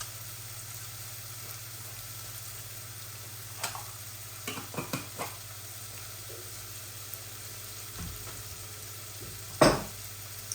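Oil hisses faintly in a pan with spices such as fenugreek, bay leaves and cinnamon, while sliced onion is added. A steady low hum runs underneath, broken by a few sharp clinks and one louder scrape.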